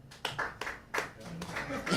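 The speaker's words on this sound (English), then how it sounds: "Those claps are so sad." A small late-night show audience gives sparse, scattered claps, a handful of weak hand claps under crowd chatter.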